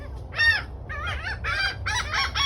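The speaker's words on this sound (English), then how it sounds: "So the laughing gull is what you hear." Laughing gulls calling at a Florida Keys bird sanctuary: a series of loud, nasal, harmonic cries, one long call followed by quicker repeated notes.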